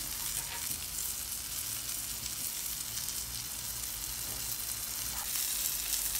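Salted parasol mushrooms fry on a temperature-controlled electric griddle, giving a continuous close crackling sizzle with small pops and no talking.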